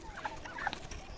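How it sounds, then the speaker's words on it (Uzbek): Chickens feeding on scattered grain cluck softly in a brief, busy murmur of overlapping calls close by. "Mana tovuqlarimizda ovqatchasini solib chiqdik."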